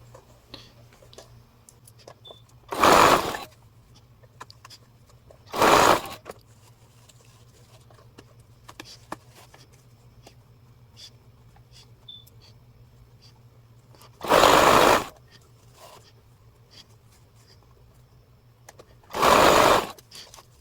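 A sewing machine stitches scrunchie fabric in four separate bursts of rapid, rhythmic whirring, each a second or so long, with quiet handling pauses between them and a faint background hum.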